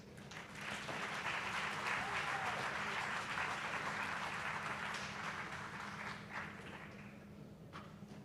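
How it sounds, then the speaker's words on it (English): Audience applause greets the acting principal at a college launch ceremony, a moderate, fairly distant round of clapping that swells and slowly tapers, with a voice briefly audible near the end. "let's give you a round of applause"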